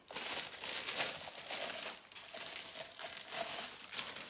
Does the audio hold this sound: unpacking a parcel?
yes